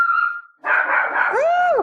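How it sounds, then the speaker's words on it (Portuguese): A dog gives a drawn-out whine followed by a loud bark and a rising, falling yelp, close and clear, with no talking over it. "Meu Deus, um cachorro."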